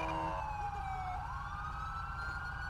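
Emergency vehicle sirens in the video game GTA V approach on a police patrol scene with a tow truck, fire department and ambulance: wailing tones sweep down then rise again over a steady engine rumble, fairly faint overall.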